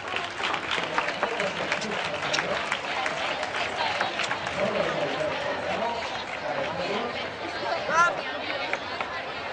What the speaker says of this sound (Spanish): Un aplauso para ellas, que ya llegan al escenario.